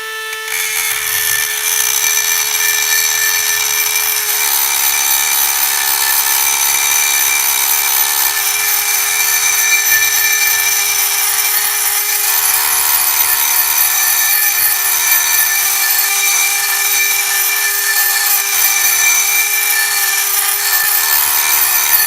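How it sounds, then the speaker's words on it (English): A continuous high-pitched whine of a small 12V cordless rotary tool with a grinding stone working a rusty axe head, loud and close, running without pause. "Let's try a grinding stone and see how that works"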